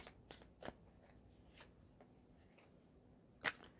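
Tarot cards being handled and drawn for a reading, with soft papery slides and a few sharp snaps of cards, one crisp flick near the end, quiet and close with no talk.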